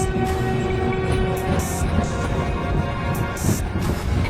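A cartoon train rumbles steadily as it pulls into a railway station, with a heavy continuous low rolling noise, a brief horn-like tone early on and clattering bursts throughout.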